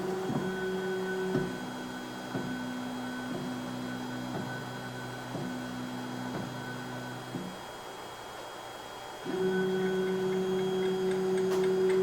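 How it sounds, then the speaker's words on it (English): A Creality K2 Plus 3D printer homing its self-leveling bed: a steady motor hum with regular ticking steps and shifts in pitch as the axes move, fairly loud and close with no speech. "watch what happens when I home the K2 Plus"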